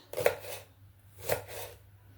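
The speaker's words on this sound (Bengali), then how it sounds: "এবার আমি বাঁধাকপিটাকে একদম সুন্দর মিহিভাবে কুচিয়ে নেবো" A knife chops cabbage finely on a board, two distinct close chopping knocks about a second apart, each with a short rustling tail, in a quiet kitchen with no talking.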